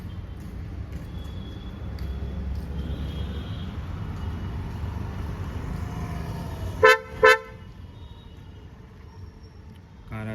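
A Kia Seltos HTX horn gives two quick, loud chirps in close succession as the car unlocks remotely, over a quiet low background hum.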